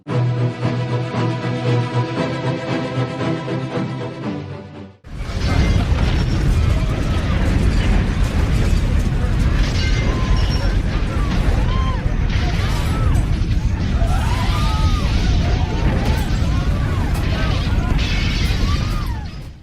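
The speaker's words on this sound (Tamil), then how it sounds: "இறுதி நாளில் மிக பெரிய நிலநடுக்கங்கள் வரும்." A staged earthquake effect in a Christmas musical play about the end times: a stretch of music cuts abruptly into a loud, sustained crashing rumble filled with bursts and smashing debris-like hits.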